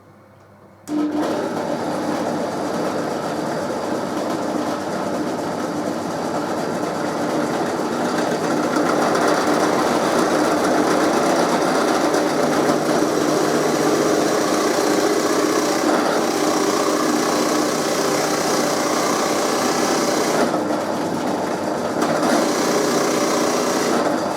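A Forstner bit drills into the wooden body of a chambered electric mandolin. After a quiet second, a loud, steady whine and grind runs on almost unbroken for over twenty seconds, close up and with no voices.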